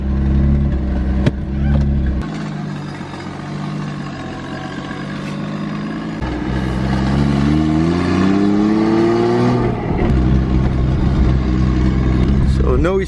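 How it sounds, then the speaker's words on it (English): A Toyota Supra turbo build's engine runs loud and close throughout, holding a steady idle with rising and falling pitch sweeps. A brief transient sounds near the start, and more changes come toward the end. "So let's just start the car. Nice. Starts, idles, and we start the log."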